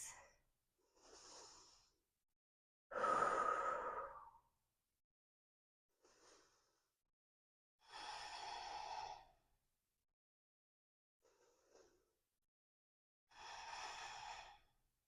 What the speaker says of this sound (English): We'll breathe here for 5 rounds of breath.